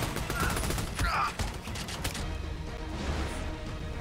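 Rapid bursts of gunfire crackle through an Army of Two firefight, dense overlapping shots and impacts in the first half fading to a rumbling background, with voices talking over the action.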